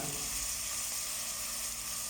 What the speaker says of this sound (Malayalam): ഇനി കഴുകി വെച്ച അരി ഇടുക